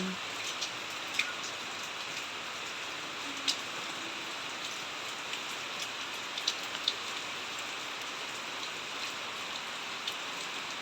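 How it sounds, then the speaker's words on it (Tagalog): Rain falls steadily and grows heavier as a typhoon approaches, a soft continuous hiss with scattered louder drips striking a nearby surface. "lumalakas yung ulan"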